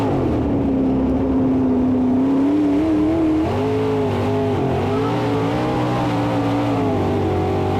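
Sprint car racing at Butler Speedway, heard from inside a winged sprint car: a loud, continuous engine roar with a rising and falling pitch as the driver works the throttle through the turns.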